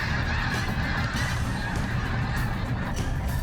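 A large migrating flock of Canada geese and snow geese honks continuously over open prairie, dense overlapping calls at steady loudness with no talk.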